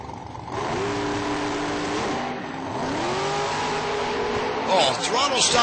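Ford and Chevrolet drag race cars launch side by side at an IHRA Pro-Am meet at Union County. Loud engines rise through the gears in repeated upward sweeps, with a sharp high whine near the end and an announcer talking over the roar.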